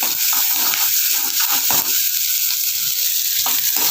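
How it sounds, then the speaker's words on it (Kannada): Onion and ingredients sizzling and frying in a pan for brinjal curry (benadekaayi huli), a steady dense crackle with occasional stirring scrapes, close and continuous. "ಈ ಥರ ಫ್ರೈ ಆಗ್ತಿದೆ."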